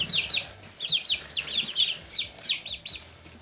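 Chickens cluck and chirp in quick, repeated bursts nearby, a busy flock chattering over a quiet background.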